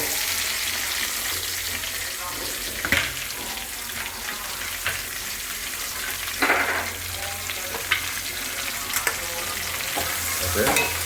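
Onions frying with ginger, garlic and mustard seeds in a pan for chicken curry, a steady loud sizzle with occasional stirring scrapes and clinks, close up and without talk.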